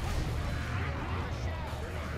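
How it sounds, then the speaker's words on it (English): Pipe bomb explosion in the Left 4 Dead 2 video game, a loud sustained low boom and rumble filling the whole stretch, with chaotic game noise and shouting players layered over it. "Who threw that pipe bomb?"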